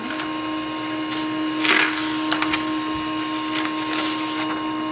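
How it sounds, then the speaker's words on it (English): A Pantum P2500W laser printer prints a page, with a steady mechanical whir, a constant tone, and several sharp clicks and paper-feed rustles about midway and toward the end. "It will print a page."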